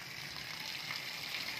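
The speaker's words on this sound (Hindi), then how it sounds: "बारिश है जोर दी ॾाढे जोर दी बारिश है" Heavy rain in a village with drain water rushing along, a steady broadband wash of flowing water and downpour, fairly quiet and continuous with no talk.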